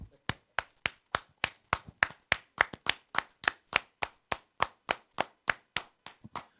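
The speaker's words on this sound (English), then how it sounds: "We're going to give this brother a round of applause" A single person claps about twenty times in a steady, even rhythm, close and crisp, with no other sound in between.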